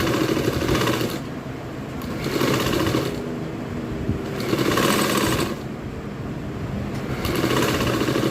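A sewing machine stitches a frill onto a dress, running close and loud in steady bursts of about a second, each separated by a brief pause.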